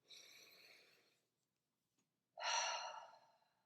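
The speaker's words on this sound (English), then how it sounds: "let's take a few deep breaths in" Two slow, deep breaths during a guided healing meditation, each a long airy exhale close to the microphone, separated by a short silence.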